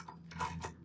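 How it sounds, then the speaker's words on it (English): A ratchet tightening the upper bracket bolts on a Ford Bronco, giving a short burst of close mechanical clicking and gear-like rattle that lasts under a second. "I'm going to go ahead and tighten the upper bolts first"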